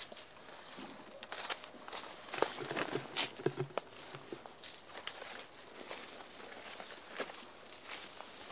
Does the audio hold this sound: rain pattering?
yes